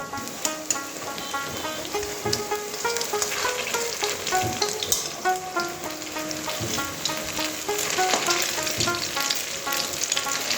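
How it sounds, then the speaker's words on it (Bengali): Chhana kofta balls fry in hot oil until reddish, making a dense, continuous crackling sizzle with bursts of popping and faint stirring clinks throughout. "এবার এইগুলো একটু লাল লাল করে ভেজে নেব।"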